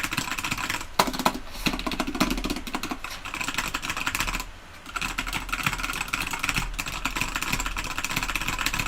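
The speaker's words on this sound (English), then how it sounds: "Keep going with the keyboard sounds" Rapid, continuous typing on a gaming PC's computer keyboard, with steady close key clatter and repeated backspace presses and a brief pause midway.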